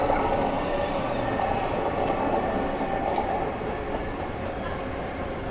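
An older Athens metro train rolls along a rail track, a continuous rumbling roar at moderate distance with faint rail clatter, and a voice speaks over it.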